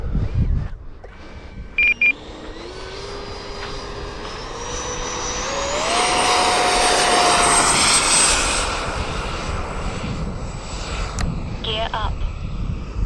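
An E-Flite Extra 300 radio-controlled model airplane flies overhead, its small electric motor whining and rising in pitch as it passes close and loud, then fading off; someone talks briefly.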